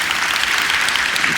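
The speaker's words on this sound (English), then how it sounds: "please, another round of applause" Dense, steady applause from an audience at a cybersecurity conference talk, a continuous wash of many hands clapping close and loud throughout with no voices over it.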